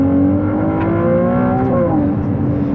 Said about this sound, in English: this thing revs so fast that you don't even know when to shift